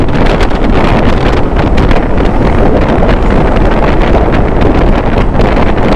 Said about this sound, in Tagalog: Strong wind, oh.